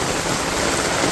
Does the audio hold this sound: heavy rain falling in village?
yes